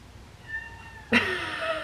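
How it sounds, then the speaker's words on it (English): An eight-week-old kitten gives a faint thin call, then one loud, close, drawn-out meow that trails off, with no talking. "She's meowing."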